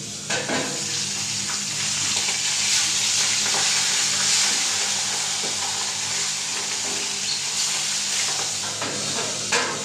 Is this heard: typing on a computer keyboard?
no